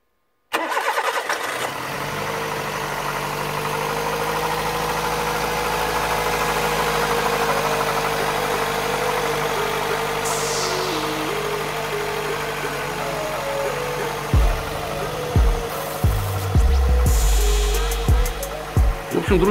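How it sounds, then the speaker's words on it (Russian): A car with a dead battery, jump-started from a welding machine, cranks and catches, then settles into a steady close idle. Several knocks and clunks follow near the end. "мотор завелся без проблем, как вы сами уже в этом убедились. Тачку прикурили от сварочника."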